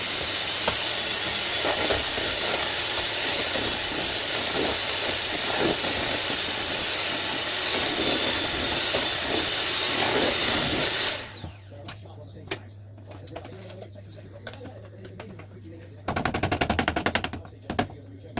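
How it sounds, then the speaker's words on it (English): A hand blender whisks a lemonade and vanilla mixture for soda cakes, giving a loud, steady high-pitched whir for about eleven seconds, then cutting off abruptly. Quieter clatter follows, and a brief burst of noise comes near the end. "I'm going to whisk it with my hand blender."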